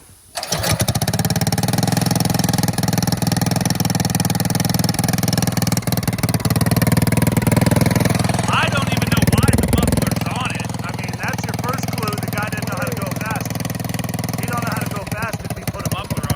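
Trailmaster off-road kart engine catching and running, a loud, close, steady small-engine drone that starts right away and keeps going throughout, with people talking over it partway through.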